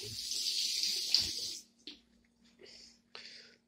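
A tap runs while an egg is washed at a kitchen sink, a steady stream for about a second and a half, then short splashes and bursts of water with soft voices nearby.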